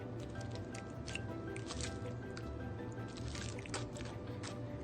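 Chicken taco soup liquid is poured and spooned over ingredients in a crock pot, with wet squishing, dribbling and splashing sounds, close and quiet, and a steady low background hum.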